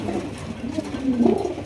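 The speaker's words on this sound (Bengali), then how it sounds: "এখানে রয়েছে আরো একজোড়া কাকজি কবুতর, ইন্ডিয়ান কাকজি" Pigeons on a pigeon farm, including Indian Kakji pigeons, give low soft coos close by, a couple of rounded throaty calls within a short stretch.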